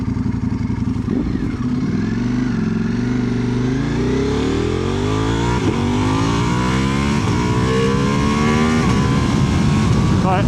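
A Ducati Multistrada V4 RS motorcycle accelerating hard through the gears, with rising engine pitch, gear changes between pulls and a loud, close, continuous roar throughout, heard without talk.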